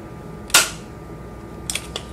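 A BB gun fires one sharp, loud crack, followed moments later by a few smaller clicks and snaps, in a quiet room with no talking.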